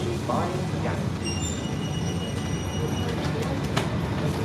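A crowded passenger train runs from London toward Brighton, a steady broadband rumble with faint high squeals and brief clicks throughout, close and continuous, with occasional murmur of passengers.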